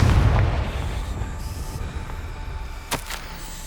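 A Confringo fire spell explodes in the Hogwarts Legacy video game, a heavy low boom at the start that rumbles away, followed by a brief sharp crackle near the end.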